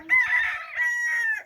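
A rooster crows once nearby, a loud, bright cock-a-doodle-doo in two drawn-out phrases that fills the short moment and ends abruptly.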